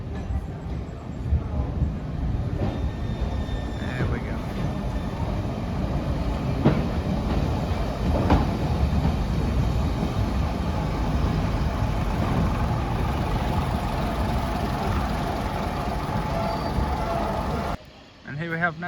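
Diesel multiple unit pulling into platform 4 at Bury Bolton Street station, returning from Heywood toward Rawtenstall via Ramsbottom; a steady, close rumble with rail clatter and squeals carries through the whole stretch, under faint voices.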